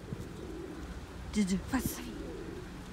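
Birds calling outdoors on a mild autumn day, with a couple of brief cooing, dove-like calls standing out over a steady background, while a person talks to a dog.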